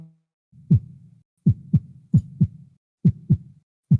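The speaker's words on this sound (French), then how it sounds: "il y avait des battements de cœur" A slow, steady heartbeat thumps in close, loud lub-dub pairs over a low droning hum, with no voices.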